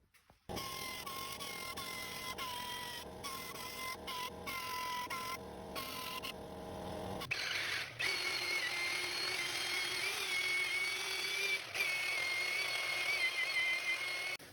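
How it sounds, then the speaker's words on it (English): A small power sander whines up and runs against stainless steel exhaust welds, a close high-pitched motor buzz with brief stops and restarts, then a harsher, heavier grinding tone as it bites into the metal. "I'm going to hit these with my little sander and just smooth them out a little bit"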